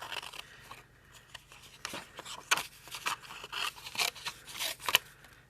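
Paper snips cutting out a pop-up card, a series of short crisp snipping and slicing sounds in an irregular rhythm, close and fairly quiet with no talking.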